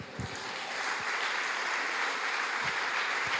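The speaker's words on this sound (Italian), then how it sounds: "Un applauso ai ragazzi." A church congregation applauds the young people after a pastor's sermon, sustained crowd clapping with a few louder nearby claps punctuating the steady roar.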